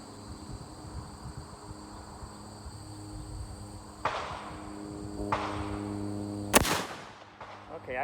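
A single loud gunshot from a stainless Thompson Center Contender pistol with a 10-inch barrel in .45-70, cracking sharply out of quiet outdoor ambience with insects chirping, followed by a brief echo.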